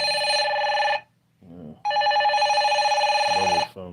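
A telephone rings in two long electronic bursts separated by a short pause, loud and close, with a few low knocks in the gap.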